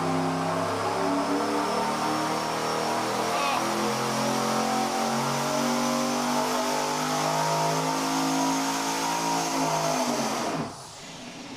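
Engine at full throttle during a dyno pull on an engine-testing stand, a loud sustained rev climbing steadily in pitch for about ten seconds before cutting off sharply.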